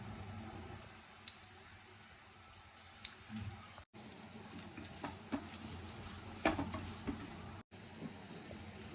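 Moong dal mixture with turmeric being stirred in a pan for a village-style ridge gourd curry, with soft scraping and squishing strokes over a low sizzle and background hum, briefly interrupted.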